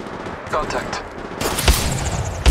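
Bursts of rapid gunfire ring out in the Apex Legends Mobile shooter, loud close volleys with sharp shots at the end, mixed with voice callouts and game noise.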